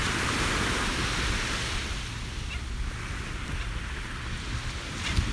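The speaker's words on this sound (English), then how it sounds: "Oh, this wind is not helping." Strong wind at the beach buffets the microphone in a dense, rushing roar, blended with the wash of surf, easing slightly toward the end.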